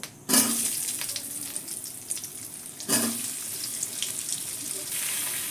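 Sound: frying pumpkin pieces in oil

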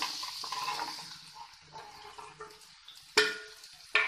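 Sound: stirring bottle gourd cooking in a pan

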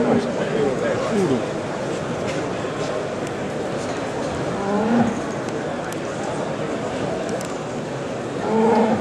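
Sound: young cows mooing

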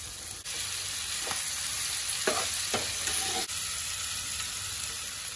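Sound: stirring paneer with soy sauce in a frying pan

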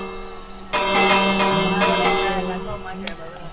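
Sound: doorbell ringing in the video game Minecraft

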